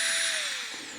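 A rotary tool spinning up to 40,000 RPM gives a steady high-pitched whine with a faint tone that glides slightly downward. It is close and fairly loud, with no talk over it.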